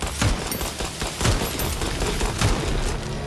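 Gunfire in the video game Nightingale: several loud, sharp shots cracking out at roughly one-second intervals over a steady, busy game background, with no voices.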